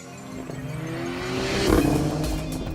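A Mercedes-AMG A45 with four-wheel drive launches hard in a drag race, its engine note climbing steadily with a brief tire chirp, loud and close.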